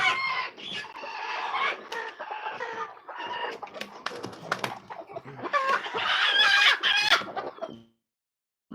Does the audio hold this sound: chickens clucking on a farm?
yes